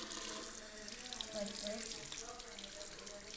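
Tap water runs steadily onto hands at a sink, a continuous close hissing splash throughout, with a brief spoken word over it.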